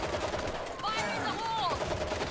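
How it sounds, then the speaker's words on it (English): Machine gun fire in the zombie shooter World War Z, a quick rattling burst of repeated shots up close, with a faint voice in the mix. "Machine gun."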